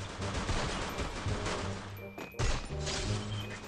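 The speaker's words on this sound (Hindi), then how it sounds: "शॉट कर रहा मैं।" Video game gunfire as the player shoots, with dense rapid volleys of shots close up and loud. There is a brief gap before the firing resumes, and no talking is heard.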